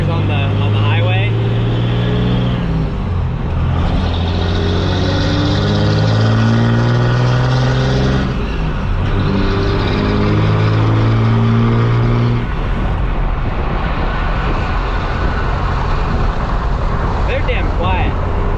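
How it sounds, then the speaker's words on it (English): A dually pickup truck on a highway on brand-new tires, replacing old mud tires, produces a continuous low engine drone and steady road rumble from inside the cab, shifting slightly in pitch as it cruises. "So this will be the first time we get to ride these tires on the highway."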